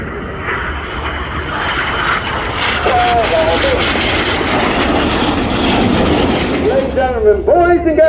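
Red Arrows aerobatic jets fly a barrel-cross display manoeuvre and inverted flight at the Royal International Air Tattoo, making a loud, continuous engine roar that swells and sustains, with a commentator talking over it.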